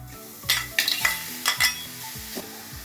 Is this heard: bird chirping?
no